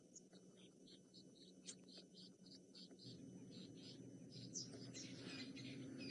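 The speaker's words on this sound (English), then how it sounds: "Can you hear the birds shouting now?" Birds in the African bush give agitated alarm calls at a lion pride, faint and distant chirps rising over a constant insect drone, while a person speaks softly now and then.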